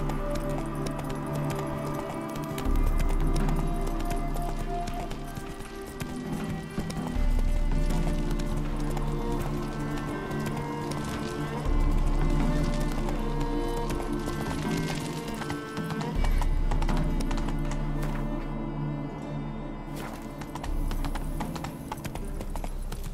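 Hooves clip-clop steadily as a horse gallops in The Witcher 3: Wild Hunt, a continuous rhythmic beat under game music and ambience, loud and close throughout.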